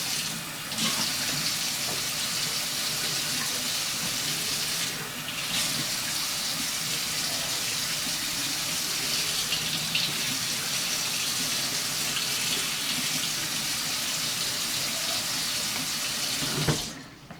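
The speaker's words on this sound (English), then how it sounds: "We'll get a little bit of warm water." Water runs steadily from a tap into a sink, a continuous hissing gush with a brief change near the start and a clunk at the end.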